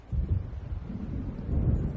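A storm gathering in the video game Alan Wake Remastered, with a continuous low rumble of thunder and wind swelling near the start and again toward the end, heard alone with no speech.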